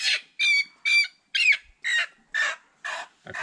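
Young broiler guinea fowl keets call noisily indoors, giving a run of eight sharp, evenly spaced shrill cries, close and loud with no talk over them.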